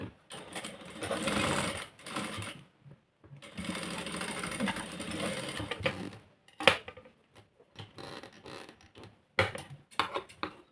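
A sewing machine stitches the folded hem of a shortened store-bought skirt in long continuous whirring runs, followed by shorter stop-start bursts of stitching.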